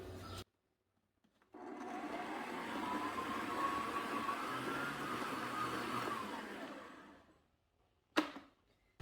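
A stand mixer whirs steadily as it kneads panettone dough, a continuous motor drone with rhythmic churning lasting several seconds after a brief start, then cutting off before a short clatter at the end.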